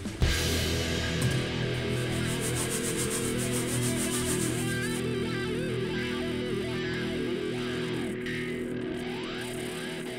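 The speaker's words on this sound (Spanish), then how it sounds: "por último, vamos a usar la fibra metálica." Steel wool scrubs a metal frying vat with steady, continuous rasping strokes, close and fairly loud, with no talking.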